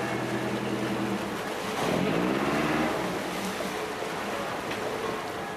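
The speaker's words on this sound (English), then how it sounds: "the only engines to be heard are those of barges and water buses" Water buses and barges move along the Grand Canal in Venice, engines churning with a steady low drone and water wash, one boat swelling briefly louder as it passes.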